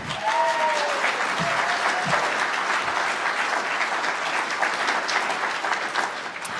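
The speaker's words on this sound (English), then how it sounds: "big round of applause for Strider." Sustained applause from a conference audience at a British Constitution Group gathering, dense steady clapping filling the room at full loudness for several seconds without pause.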